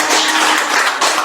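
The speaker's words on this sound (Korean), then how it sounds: "박수!" A church congregation applauds children being blessed at a Sunday service, giving a close, loud burst of dense clapping.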